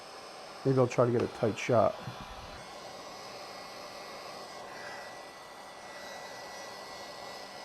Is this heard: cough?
no